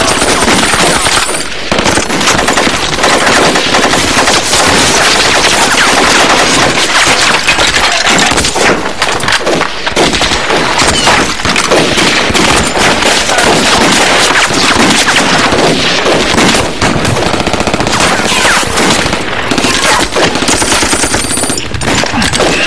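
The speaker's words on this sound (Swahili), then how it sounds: "Risasi inakuja ni ya moto." Machine gun fire in a war video game with tanks, rapid continuous bursts and heavy explosions booming throughout, loud and dense, with no clear talk over the gunfire.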